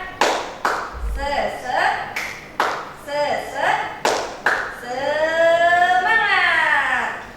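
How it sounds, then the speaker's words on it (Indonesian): A classroom of students performs a rhythmic clapping chant, sharp claps in a regular pattern answered by voices, ending in a drawn-out group shout. "Tepuk semangat."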